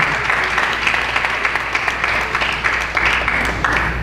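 A school awards-ceremony audience claps steadily in a continuous wash of applause, moderately loud and even throughout with no voices on top.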